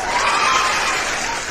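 A short burst of steady clapping from a crowd, dense and continuous, with faint cheering mixed in.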